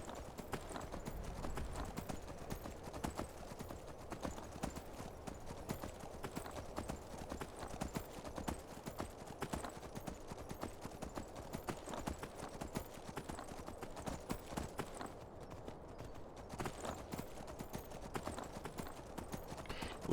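Horse hooves clip-clop in a steady, continuous rhythm as a rider travels across terrain in the video game Skyrim, moderately close and without talk over them.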